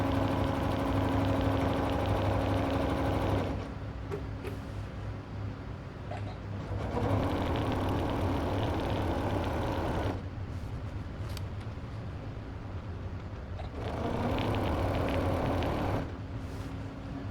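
A sewing machine joins rows of hand-embroidered quilt squares, running in steady bursts of mechanical whirring and clatter separated by brief quieter pauses, close and fairly soft.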